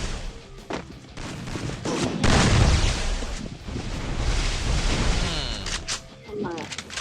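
UMP submachine gun fire in a shooter video game, with dense, rough bursts of shots that rise and fall over wind-like background noise, mixed under a voice talking.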